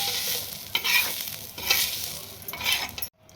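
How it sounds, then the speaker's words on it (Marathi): Onion is stirred and roasted in a pan, a steady close sizzle broken by three louder scraping stirs before it cuts off abruptly. "कांदा भाजलेला आहे तुम्ही पाहू शकता कांद्याचा फक्त रंग बदलू द्यायचा आहे"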